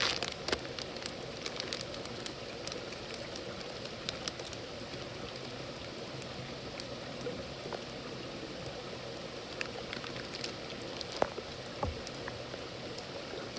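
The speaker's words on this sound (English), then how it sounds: "Still a little bit sprinkly out here" Light rain sprinkles steadily outdoors on a waterfall hike, a soft continuous patter with scattered drops ticking nearby, heard alone with no talking.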